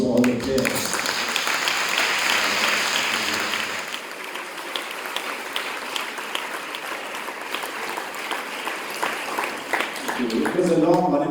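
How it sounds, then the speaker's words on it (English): An audience at a youth competition's girls' semi-final results breaks into sustained applause for the players, steady and full, with voices audible at the start and end. "a round of applause to all the players."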